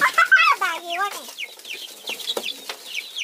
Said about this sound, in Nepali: यो कडकनाथ भेराइटिजको कुखुराको चिक्सहरू रहेछ